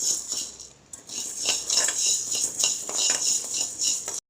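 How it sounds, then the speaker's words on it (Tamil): Sago pearls dry-roasting in a pan for baby porridge, stirred steadily so they scrape and rattle against the metal in repeated close strokes, with light clinking throughout and no voices. "குழந்தைங்களுக்குனால நம்ம வந்து இந்த மாதிரி கொஞ்சம் நல்லா வறுத்துக்கலாம்."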